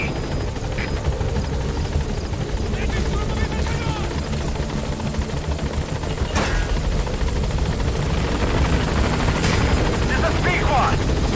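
The B-Quad support helicopter in Metal Gear Solid V arrives with a loud, steady rotor roar and engine drone that continues throughout, while a radio-style voice talks over it.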